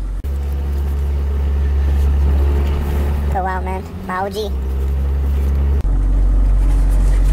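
A pickup truck's engine idles with a deep, steady low rumble close by as it is moved, with a brief voice over it midway and a slight shift in tone near the end.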